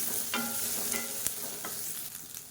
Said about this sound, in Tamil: இது வந்து கலர் மாறணும் அந்த அளவுக்கு வதக்கிக்கலாம்